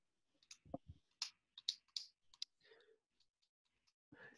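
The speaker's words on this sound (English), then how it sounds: "you can bounce between them very quickly by using the arrow keys" Computer keyboard arrow keys clicking while controlling stage lighting software: a handful of sharp, quiet separate taps in a loose irregular rhythm, close up in a silent room.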